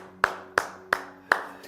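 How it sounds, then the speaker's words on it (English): Four crisp, evenly spaced hand claps ring out close and clear as applause for Samarjit Chaudhary and Miniti Panda at a sales talk, with no voices over them. "Huge round of applause for Samarjit Chaudhary and Miniti Panda."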